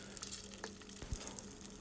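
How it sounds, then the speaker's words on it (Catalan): Floured pork cheeks with a couple of garlic cloves frying in oil in a casserole, giving a faint, steady sizzle with a few small pops and stirring scrapes, no voices. "Enfarinarem les galtes i les espolsarem i les posarem a fregir en una cassola amb un parell d'alls i oli."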